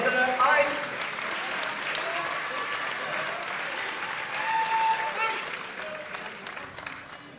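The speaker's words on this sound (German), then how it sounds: "großen Applaus für die Jungs drin" Sustained applause from an event crowd greeting fighters at an MMA bout in the ring, steady and dense throughout with a few voices and cheers mixed in.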